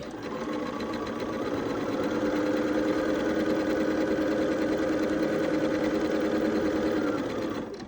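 A sewing machine stitches quilt pieces together in one steady, close, even whir that runs for several seconds after a soft start and stops near the end, with no talk over it.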